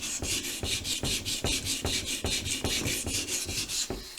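A jointer knife blade is ground to remove nicks and chips, giving a steady run of rhythmic rasping strokes, about three per second, close up and fairly quiet with no talking.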